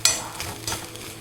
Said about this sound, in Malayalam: ചിരകിയ തേങ്ങ ചേർത്ത് ഇളം തവിട്ട് നിറം വരുന്നതുവരെ വറുത്തെടുക്കുക.